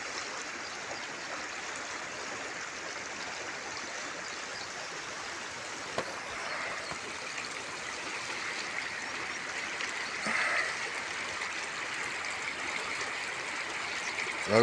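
Flowing stream of water, a continuous rushing hiss that stays steady and fairly soft, with a brief swell near the end.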